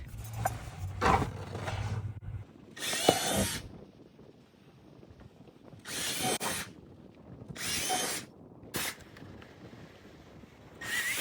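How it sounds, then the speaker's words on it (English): A power drill bores holes into stepping stones outdoors while a garden is being planted, with several loud bursts of drilling separated by pauses, plus handling noise and a brief low hum near the start. "All we need is for him to get the drill so we can drill some holes"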